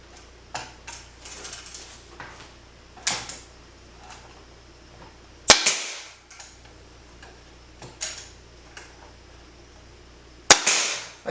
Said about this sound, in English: we'll take our staple gun and just shoot a couple staples in the side